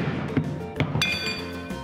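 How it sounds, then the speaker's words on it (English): A hammer strikes a fresh abalone a few times, sharp clinking knocks spaced irregularly over a faint background. "Hammer time."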